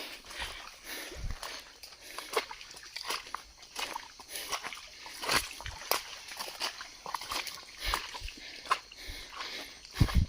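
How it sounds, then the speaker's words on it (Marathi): Wading through shallow water at night while catching crabs, with repeated irregular sloshes and splashes from steps, fairly faint and close. "एक तर पाणी पण उडतं आणि अडखळायला होतं"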